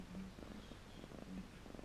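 A cat purrs softly and steadily close by, a low rhythmic rumble repeating through the short clip with no voices.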